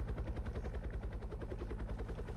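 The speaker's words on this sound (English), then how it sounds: "now I have a helicopter." A helicopter in the military video game Military Tycoon gives off a steady, quiet rotor thump that pulses rapidly and evenly throughout, with no voices.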